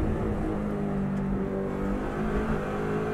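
A Subaru race car on a circuit brakes hard and drops down through the gears, the engine note blipping and shifting under steady loud engine roar throughout, with no voices.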